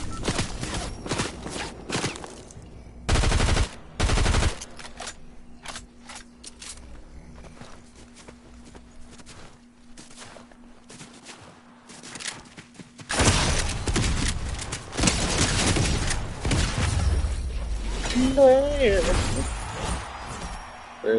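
Submachine gun fire in the Fortnite video game: a short burst of rapid shots early on, then sustained loud gunfire and action in the second half, with someone talking throughout.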